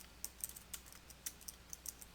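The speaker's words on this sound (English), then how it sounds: "Then enter a word or phrase to replace it with by typing that into the Replace With field." Fingers tap quickly on a computer keyboard, a close, quiet run of uneven clicks with short pauses between bursts and no voices.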